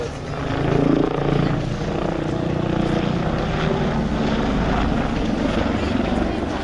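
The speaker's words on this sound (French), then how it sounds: "cette Augusta, cet hélicoptère italien, utilisé par l'armée de l'air belge" An Agusta military helicopter of the Belgian Air Force flies steadily overhead at an air show, with a continuous rotor thrum and engine whine, constant and fairly loud throughout.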